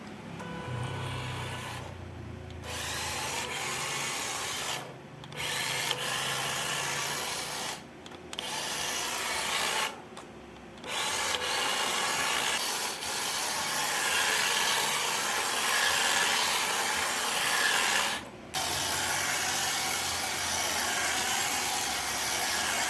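A remote-control drift car is driven in steady runs of whirring motor and scuffing tires, broken by a few short pauses.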